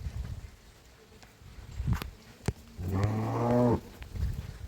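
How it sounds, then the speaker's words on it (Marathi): A cow lets out a single drawn-out moo close by, lasting under a second, with scattered soft knocks and shuffling noises before and after it. "बघा ही गाय आली"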